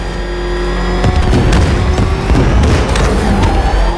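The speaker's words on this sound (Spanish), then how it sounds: "Atención, explosión inminente." An explosion rumbles in Batman: Arkham Knight, a loud, sustained low boom with crackling bursts and thuds over heavy game noise and engine drone.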